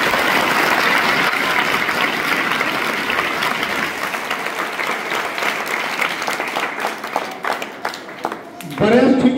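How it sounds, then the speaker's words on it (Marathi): Students at a school parents' gathering applaud their parents, strong and continuous clapping that fills most of the clip before fading near the end, with talk starting over the last moments. "सर्व विद्यार्थ्यांनी आपल्या पालकांचं जोरदार टाळ्या वाजवून स्वागत करायचं"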